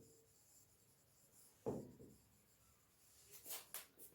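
Pen scratching across paper while writing out chemistry notes, faint soft scribbling strokes with a few sharper scratches near the end, close and quiet with no talking over it.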